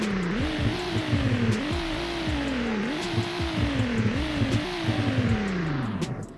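BMW M3 engine in Greenville, Wisconsin, revving repeatedly after startup, several rising and falling revs in a steady rhythm, loud and close with no talking.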